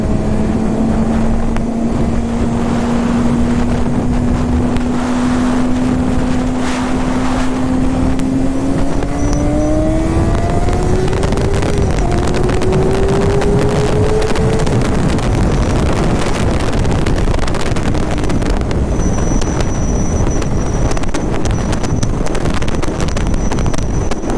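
Borrowed motorcycle accelerating onto an interstate, its engine note rising steadily through the gears over constant loud wind rush buffeting the microphone, with no talk.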